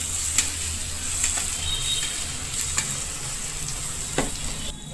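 Garlic chutney frying in a pan for a tuvar thotha dish over a lowered flame, a steady broad sizzle that holds for the whole stretch, with a few brief stirring clinks and scrapes on top and no talk.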